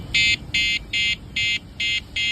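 Six evenly spaced, shrill electronic beeps from an electric three-wheeled motorcycle's horn, sounding close and loud in a quick regular rhythm.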